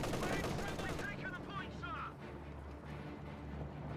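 Machine gun fire in the Company of Heroes 2 video game rattles in sustained bursts, mixed with other battlefield gunfire, running beneath a commentator's continuous talk.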